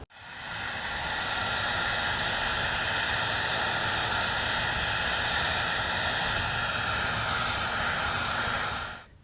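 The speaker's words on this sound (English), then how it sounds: "here is where we have to heat it up with a heat gun" Heat gun blowing hot air onto a plastic CR80 dirt bike gas tank, a steady loud whooshing roar with a faint whine that starts abruptly, holds constant and cuts off at the end.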